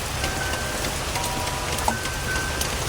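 Rain falls steadily at a night campsite beside a graveyard, an even close hiss of drops pattering on surfaces with a few slightly sharper drips and no talk.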